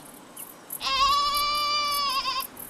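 A single sheep from a flock lets out one clear, drawn-out bleat, close and prominent, against a quiet background.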